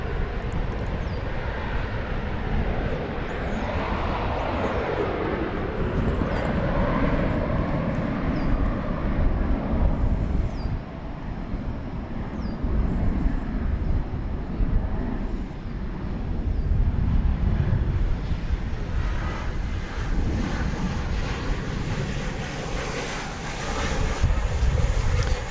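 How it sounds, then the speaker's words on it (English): An Airbus A321 takes off from DFW Airport, its jet engines a broad sustained roar that swells and holds across the whole stretch, with wind buffeting the microphone and no voices. "Coming up, going out is flight 2081 to Sacramento, California, in Airbus A321."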